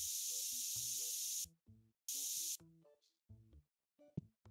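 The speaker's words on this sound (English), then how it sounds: "we gotta go spray this guy." In TCG Card Shop Simulator, an aerosol can sprays a smelly customer in two long hissing bursts amid soft game footsteps and clicks, loud and close with no speech.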